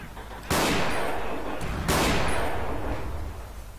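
Two loud bursts of gunfire in Forgotten Hope 2 ring out close by, each a dense volley that tails off into echoing rumble, with no voices.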